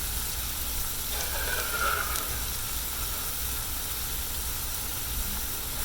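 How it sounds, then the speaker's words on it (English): Finely chopped vegetables sauté in a pan for a chicken spaghetti casserole, giving a steady, soft sizzling hiss throughout with no pauses. "We're going to saute them for a few minutes"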